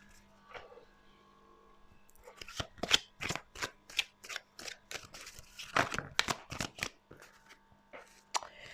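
Oracle cards being shuffled and drawn, crisp papery riffles and flicks arriving in quick bursts, close and fairly quiet, with no talking.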